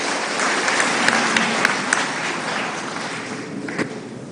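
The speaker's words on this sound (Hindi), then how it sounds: "ताली बजा के उनका स्वागत कीजिए" An audience at a Garib Kalyan Sammelan gathering claps steadily to welcome the state party president, sustained applause with a few sharper claps standing out, no voices over it.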